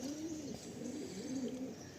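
Pigeons coo steadily at a pigeon loft, a soft low rolling murmur running through the whole stretch with no talk over it.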